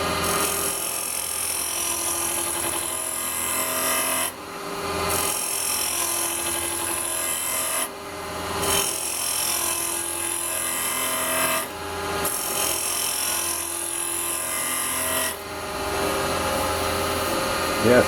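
A small wooden bowl spins on a lathe as a carbide cutter scrapes it, a loud continuous rasping, grinding drone broken by four brief pauses as the cutter lifts away.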